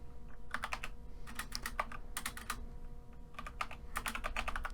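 Fast bursts of keystrokes on a computer keyboard while Java code is typed, clustered in quick runs separated by short pauses, close and clear over a low steady hum.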